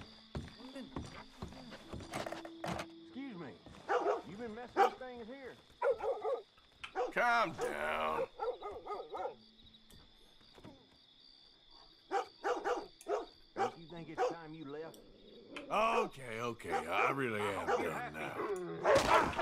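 A dog barks in Red Dead Redemption 2 near a hut, short scattered barks and yips mixed with hoofbeat-like clopping and game sounds, while someone talks in German throughout.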